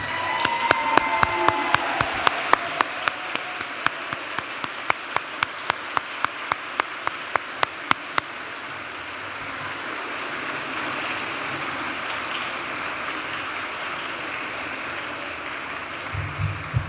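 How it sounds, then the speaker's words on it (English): Graduates at a physician assistant program commencement applaud the audience, a broad wash of crowd clapping that sounds like steady rain and runs for the whole stretch, with sharp repeated clicks over the first half. "Graduates, I want to invite you all to stand, turn around, and applaud everybody that's here who has made this day possible."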